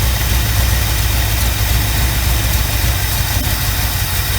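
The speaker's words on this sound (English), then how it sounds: "You can see the shake and you can hear the miss" Engine of a 1975 Chevy Camaro idling with a misfire, a steady close rumble with an uneven low pulsing, loud and without voices.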